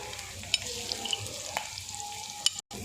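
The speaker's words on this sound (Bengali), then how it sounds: "যে পেঁয়াজ কাটাগুলো রেখেছিলাম ওগুলো দিয়ে দিচ্ছি।" Chopped onions frying in hot oil in a pan for salted hilsa fish curry, a quiet, steady sizzle with a few sharp clicks and one brief dropout near the end.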